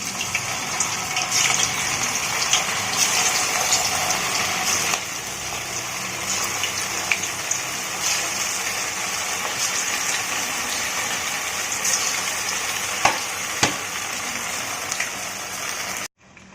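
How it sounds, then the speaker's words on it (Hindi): Chicken Manchurian balls deep-frying in hot oil over a low flame, a steady broadband sizzle and bubbling that runs continuously and fairly loud, with a few small pops, then cuts off near the end. "ये मैं मंचूरियन बॉल फ्राई कर लेती हूँ"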